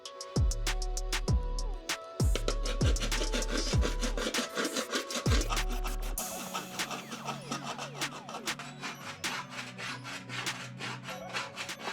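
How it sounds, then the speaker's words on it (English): Hand filing of weld tack heads on a metal car body panel for a gullwing build, a steady series of rasping, scraping strokes at close range, with a lower, busier stretch of scraping in the second half. "All I'm gonna do is go and file all the heads of the tacks away."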